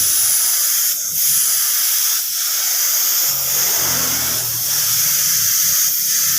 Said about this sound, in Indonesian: Kita semproti cat dasarnya seperti ini biar merata.